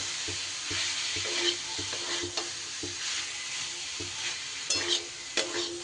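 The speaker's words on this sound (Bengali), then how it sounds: "তারই সাথে সিদ্ধ করে নেওয়া ছোলার ডালও দিয়ে দিলাম এবার সব কিছু খুব ভালো করে একটু কষিয়ে নিব" Boiled chana dal and fried potatoes being sautéed together in a pan, a steady hiss of frying broken by repeated scraping strokes of a spatula, close and continuous with no talking.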